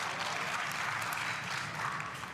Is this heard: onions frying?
no